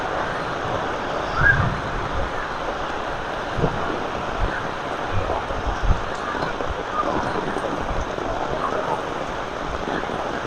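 Heavy rain pouring down in Jaffna, a dense steady hiss of drops on surfaces with a few louder bumps, no clear thunder, and faint voices now and then.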